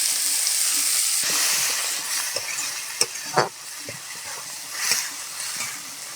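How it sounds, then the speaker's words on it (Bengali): Chopped onion hits hot oil in a pan already holding whole garam masala, cumin and bay leaf, village-style home cooking, giving a steady close sizzle broken by scraping stirs and a few sharp clinks of the spoon. "এখন কুচানো পেঁয়াজটা দিয়ে দেব"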